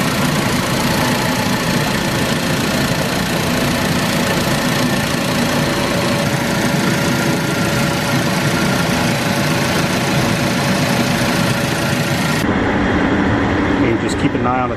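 A 2014 Ford Focus engine idles steadily with the heater fan blowing, a constant close hum and whoosh that cuts off sharply near the end.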